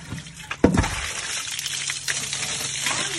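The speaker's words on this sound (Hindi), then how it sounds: "चलो अब इसमें भरते हैं पानी।" Water pours into a clay pot with a sudden splash and then a steady gushing, burbling flow from a tap that fills the pot without a break.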